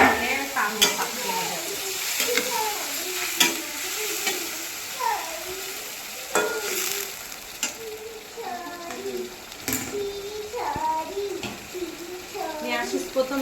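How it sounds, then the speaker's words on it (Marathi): Rice tipped into a sizzling pan of paneer pulao masala and stirred, with repeated scraping and clattering strokes and a steady frying crackle underneath, while someone talks over most of it. "आणि त्यामध्ये मग हे तांदूळ टाकते"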